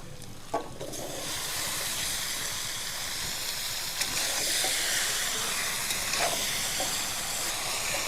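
Spice-marinated chicken goes into lightly fried onions in a hot pan and sizzles in a steady, fairly faint hiss, with a few small pops and clinks throughout.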